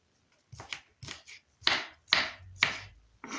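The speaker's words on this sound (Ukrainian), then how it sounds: "тепер буду нарізати наше яблучко" A knife chops an apple into cubes on a cutting board in a handful of separate strokes, close and fairly crisp, with short pauses between them.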